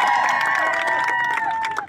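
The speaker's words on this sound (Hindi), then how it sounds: "तालियां बजाओ जी कितना" Crowd cheering and clapping at a women's volleyball match, a dense lively wash of voices and applause throughout that thins out near the end.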